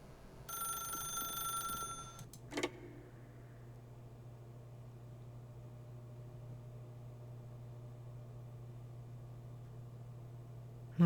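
A telephone rings in The Stanley Parable video game: one short electronic ring lasting under two seconds, followed by a sharp click and then a low, steady hum.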